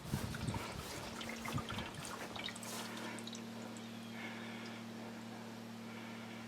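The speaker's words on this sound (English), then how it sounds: "So I'm just going to turn the water on" Water from a hose filling an off-grid filtration system, a continuous soft trickle and splash with a steady low hum underneath, fairly faint throughout.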